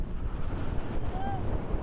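Sea surf on the coast at Shah Porir Dwip, Bangladesh's southern tip, gives a steady washing roar, buffeted by heavy wind noise on the microphone.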